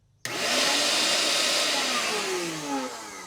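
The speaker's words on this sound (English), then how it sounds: "It sounds more like a vacuum than an air compressor." A faulty air compressor kicks on abruptly and runs with a loud whooshing, vacuum-like whine, its pitch wavering slightly as it keeps going.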